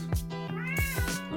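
A cat meows several times in quick succession, drawn-out and whiny, close up over a faint steady hum.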